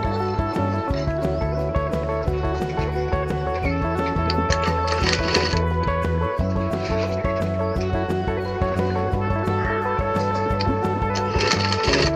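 A sewing machine stitches folded pleats into an elbow sleeve, with a fast steady mechanical clatter running the whole time, close and loud, and faint background tones mixed in.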